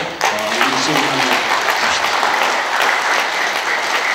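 Seminate audience in a Korean lecture hall bursting into loud, close applause that starts abruptly and holds steady, with a brief voice at the opening.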